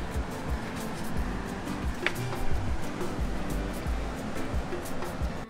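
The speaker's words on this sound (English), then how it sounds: "really just listening to the ocean" Ocean waves at a beachfront resort in Ixtapa, Mexico, rolling in as a steady, broad wash of surf with gentle swells, heard alone with no voices.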